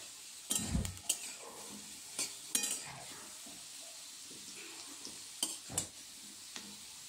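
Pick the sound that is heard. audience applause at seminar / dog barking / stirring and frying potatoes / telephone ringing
stirring and frying potatoes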